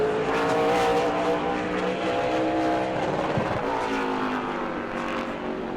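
Race car on a qualifying lap at New Smyrna roars steadily near the microphone, its engine note rising and falling as it comes off a corner, continuous throughout.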